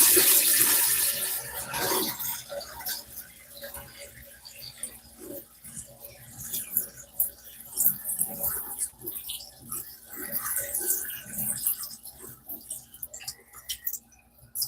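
A pottery water bucket fills from running water, a splashing gush that starts strongly and then trickles and churns unevenly with occasional drips and clinks.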